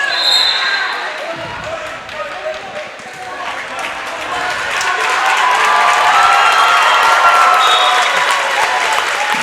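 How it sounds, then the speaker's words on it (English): A high school basketball game crowd applauds as a player enters, with clapping swelling and holding steady across the gym, a commentator talking over it and occasional shoe and ball noise beneath. "Big applause for number 3 as he comes in the game"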